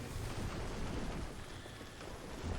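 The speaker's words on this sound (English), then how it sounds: "It is starting to rain." Steady rainfall in the Banished city-building game, a dense, even wash of patter with low rumbling underneath, continuous and moderately loud throughout with no voices.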